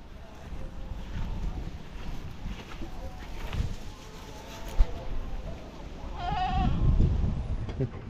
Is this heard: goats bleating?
yes